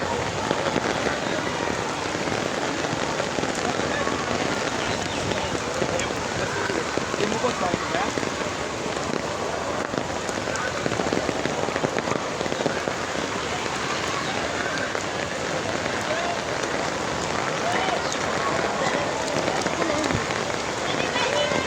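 A sudden heavy downpour pours as a thick, unbroken roar of rain, loud and steady from start to finish with no pauses.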